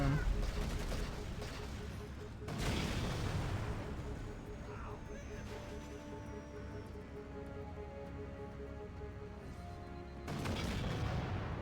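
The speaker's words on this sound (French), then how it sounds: "le canon, il tire plus haut que le viseur." Heavy cannon booms fire at intervals over a dense, rumbling battle din in the video game Halo, with a voice talking underneath.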